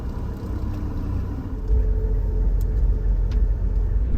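A car driving along a road in Belize, near Corozal town: a continuous low rumble of engine and tyres that swells louder partway through, with no talking.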